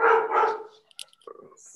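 Dogs bark a couple of times, close and loud at first, then fade into a few faint yips and scattered small noises in a quiet room.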